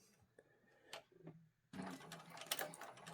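A sewing machine runs a short reinforcement stitch through vinyl while finishing a bag, a faint few taps early on followed by a steady, louder mechanical whirr that continues to the end.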